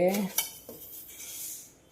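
A metal spoon clinks against a pot a few times while adding sugar to water for tea, with light scraping in between, close and fairly quiet.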